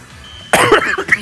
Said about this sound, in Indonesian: Terlalu fokus ini ya ngomong sampai batuk.